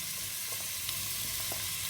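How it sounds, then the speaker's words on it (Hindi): A large chopped onion frying in half a cup of oil in a kadai gives a steady, dense sizzle with faint stirring scrapes underneath and no voices. "और प्याज को फ्राई कर लेते हैं"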